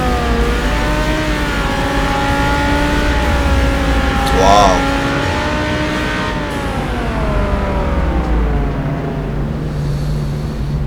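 In the City Car Driving game, a Lamborghini Huracán Performante with a tuned exhaust accelerates, its engine note climbing and shifting in a loud, steady drone, with a brief higher whine in the middle.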